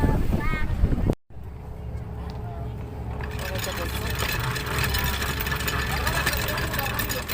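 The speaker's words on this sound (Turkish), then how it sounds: "Tekne çalışıyor." A steady boat engine drones at a low idle after a brief cut, on a tour boat off Bodrum at Orak Island, with water and wind noise around it and no voices.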